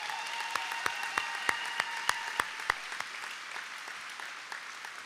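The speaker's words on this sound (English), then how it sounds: "let's give Principal Steele a nice round of applause" At a high school final assembly, an audience gives the principal a round of applause, with steady clapping under a few sharp, evenly spaced louder claps standing out near the front before the sound tapers off.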